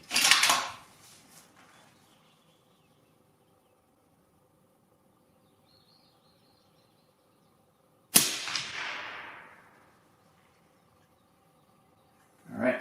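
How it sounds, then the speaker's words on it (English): Two sharp, loud 6.5 Creedmoor rifle shots ring out outdoors about eight seconds apart, each with a long fading echo, and a third blast begins right at the end, with quiet ambience in between. "Go ahead and put another shot down range."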